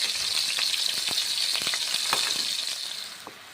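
Ground spice paste for a green pea dum curry frying in hot oil, a dense, close crackling sizzle with occasional spatters and stirring taps that eases off toward the end.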